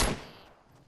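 A single sharp gunshot cracks out in a 50-versus-50 sniping match in a video game, hitting hard at the start and then trailing off in a fading echo.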